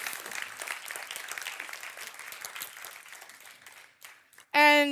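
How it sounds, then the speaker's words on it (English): An audience gives a round of applause that fades gradually, ending with a short burst of a loud, tonal sound. "So please make another round of applause for these folks."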